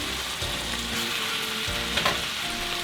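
Ground venison frying in a large pan, a steady close sizzle and crackle running throughout with a few brief stirring scrapes, no voices.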